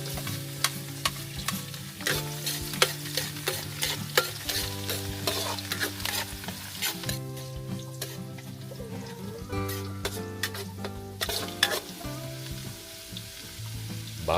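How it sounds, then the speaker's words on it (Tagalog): Garlic and onion sautéing in cooking oil with chili for native chicken adobo in a rural province kitchen, a continuous close sizzle broken by frequent utensil scrapes and clinks against the pan, with no voices. "Magigisa po muna si Insan na naglagay na ng mantika."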